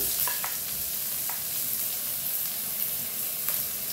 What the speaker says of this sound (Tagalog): Lagay na rin natin ang bawang.